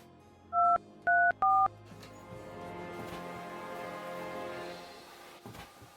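Three short touch-tone telephone dialing beeps in quick succession, clear and close, followed by a faint electronic hum and murmur.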